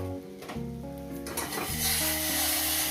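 Boiling hot water poured into a pan of rohu fish head curry with vegetables, a soft hiss and sizzle swelling up partway through and holding steady beneath a tonal background.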